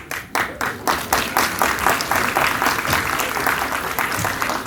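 A live audience at a TEDx talk bursts into applause after a Rubik's cube magic trick, with dense, energetic clapping that starts with a few sharp claps and swells into a sustained, loud ovation.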